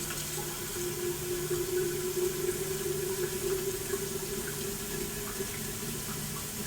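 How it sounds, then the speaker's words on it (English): A container refills with fresh water from a kitchen tap, a continuous moderate running stream with a steady hollow filling tone, close and unbroken throughout. "refill it with fresh water"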